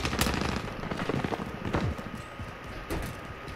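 Rapid gunfire in a multiplayer shooter battle at a boneyard, a dense string of sharp cracks and bursts mixed with scattered single shots over a constant noisy backdrop.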